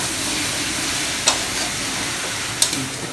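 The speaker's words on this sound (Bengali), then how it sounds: "এবার পেঁয়াজটা যতক্ষণ না ব্রাউন হয় ততক্ষণ এটাকে কষতে হবে কড়াইতে" Onions fry in a kadai for a Bengali chicken curry, alongside potato pieces, a steady close sizzle broken by two sharp scrapes of a spatula stirring.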